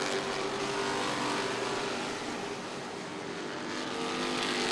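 Limited stock race cars roar past wheel to wheel on an oval track, a steady, loud engine drone that rises and dips slightly as the pack fights for position, with no voices over it.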